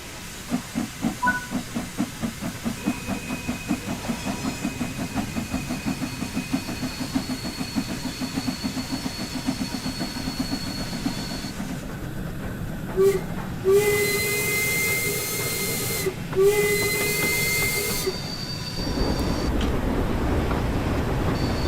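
Steam locomotive in Train Sim World 4 building pressure, first rapid rhythmic chuffing under a steady hiss, then loud roaring bursts of released steam with a brief whistle-like tone, close and without talking.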